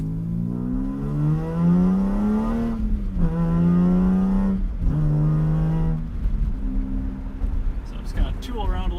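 A 1988 BMW E30 M3 fitted with an S54 engine drives at low speed while the oil warms, its engine note rising and falling through several gear-like sweeps, heard from inside the car.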